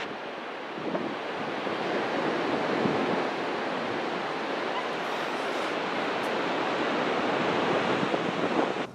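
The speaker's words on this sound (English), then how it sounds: "when the waves batter the slope and the land" Ocean waves wash against a rocky shore slope on San Francisco's eastern waterfront, a steady roar of surf mixed with wind noise on the microphone.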